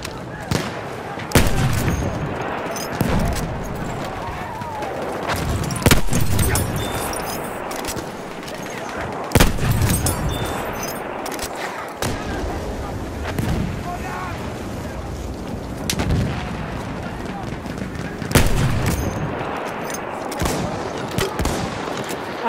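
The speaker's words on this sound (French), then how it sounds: "Mitrailleuse ennemie en vue." Enemy machine gun and artillery fire in a First World War frontline video game at Verdun, with dense crackling gunfire, repeated sharp blasts and booms across a chaotic battlefield, loud and continuous, voices calling out in the mix.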